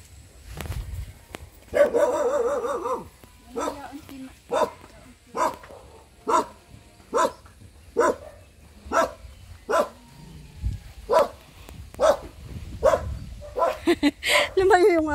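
A dog barks over and over in a steady rhythm of about one bark per second, fairly close and loud, with a few quieter yips mixed in near the start.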